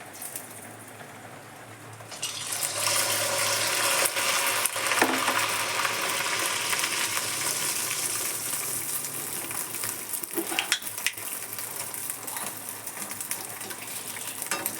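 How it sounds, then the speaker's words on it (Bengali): Spoonfuls of spicy pitha batter dropped into hot oil, a loud bright sizzle bursting in after a quiet start and crackling steadily on, with a few sharper pops from fresh drops. "গরম হয়ে গেছে, এবার আমরা দিয়ে দিচ্ছি 1 চামচ করে।"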